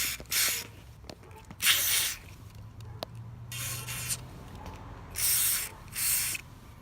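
Nulon upper cylinder cleaner sprayed onto the electric throttle body of a RenaultSport Megane 225, five or six short hissing bursts up close, with a few faint mechanical clicks between them.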